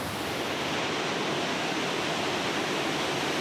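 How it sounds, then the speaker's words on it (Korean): A steady, loud roar of Iguazu Falls heard up close, made up of dense continuous water noise that stays constant and unbroken throughout, with no voices present. "폭포 가까이 오니까 엄청난 굉음이 들리네요."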